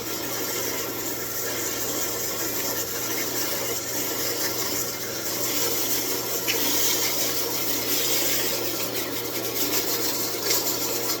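Sandpaper rubbing a wooden Christmas ornament spinning on a wood lathe, a continuous even hiss and rasp with the motor hum underneath, steady and close throughout.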